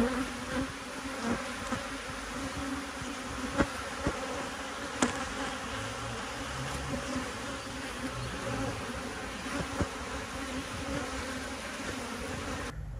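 Honey bees swarm and buzz around the queen bee on a hive frame, a steady close droning hum with a few sharper passes of individual bees, no voices.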